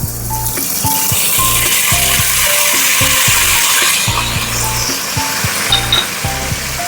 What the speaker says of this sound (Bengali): আদা লঙ্কাটা একটু ভেজে নেব